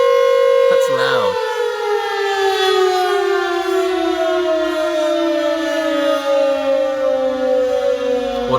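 A loud civil defense alarm siren blasts alone, a sustained wailing tone that slowly falls in pitch after a brief sharp onset.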